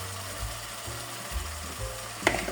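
Masala fries in oil while yogurt is added for a spiced okra dish, producing a steady close-up sizzle over a low hum, with a short sharp clack near the end.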